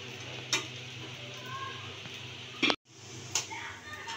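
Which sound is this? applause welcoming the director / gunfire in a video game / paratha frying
paratha frying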